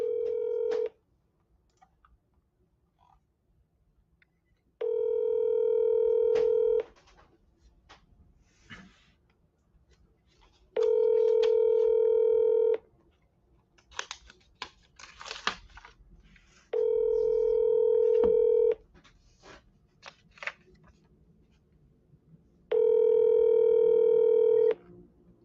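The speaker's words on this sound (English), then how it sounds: "All right, let's call Jamie here" Touch-tone keypad beeps of a phone number being dialed, about five short even bursts spaced a few seconds apart, with quiet clicks and faint noise between them and no talk over the tones.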